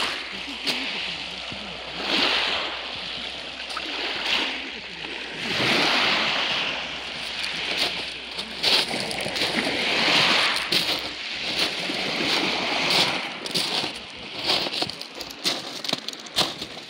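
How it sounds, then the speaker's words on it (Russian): Sea waves wash steadily onto the shore after a mountain enduro motorcycle ride, a continuous rushing surf with swelling peaks and occasional splashes, heard up close. "Звук моря."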